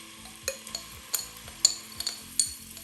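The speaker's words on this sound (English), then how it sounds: "we'll simply spoon that onto that oil, and you'll hear that start to sizzle immediately" Laksa curry paste from a jar spooned into hot oil for a Malaysian laksa soup, giving a steady close sizzle with light scrapes and taps of a spoon against the pan at irregular intervals, no talking.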